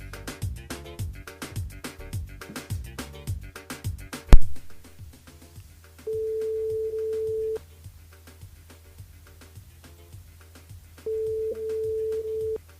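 A steady single-tone ringback beep sounds twice on a call to a mobile phone from a radio studio, each lasting about a second and a half with a long pause between, after some faint clattering.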